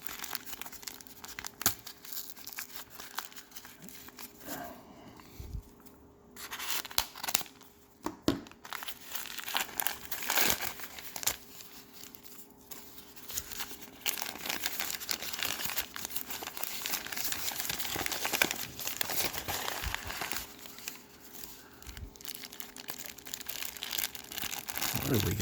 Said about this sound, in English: Brown paper sacks, man.